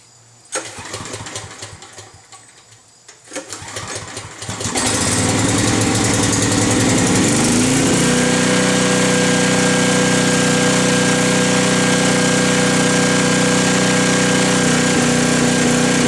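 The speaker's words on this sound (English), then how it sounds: "start up the generator, make sure it's functioning okay before I really need it" A portable generator cranks a few times with uneven bursts, then catches and settles into a loud, steady running drone with a constant hum that continues to the end.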